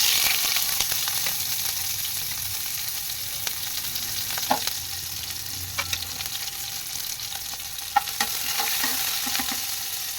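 Onion fries in oil with mustard seeds and curry leaves, giving a steady close sizzle punctuated by occasional spoon clinks and scrapes, with no voices.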